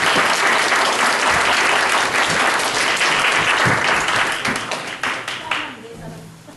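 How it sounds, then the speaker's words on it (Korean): A church congregation in Connecticut applauds to greet members of a visiting church, loud close clapping from many hands that thins out and fades over the last second or two. "우리 한번 박수로 인사하겠습니다."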